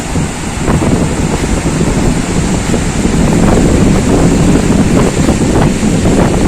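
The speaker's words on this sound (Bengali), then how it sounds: "কি জোরে হাওয়া দিচ্ছে।" Strong wind buffets the microphone on the beach at Digha, with big waves from a low-pressure storm roaring and crashing continuously, loud and close, with no talk.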